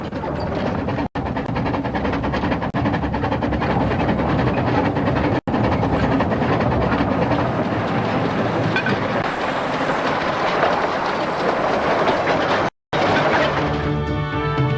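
A small restored old train in western Tasmania rumbles steadily along the rails with a continuous clattering roar, close and loud throughout, briefly dropping out once near the end.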